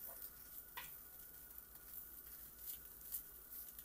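Tinapa, a smoked fish, toasts in a dry pan with no oil for Vietnamese fish spring rolls. It gives a faint, steady crackling sizzle with light scraping and stirring scuffs and no talking.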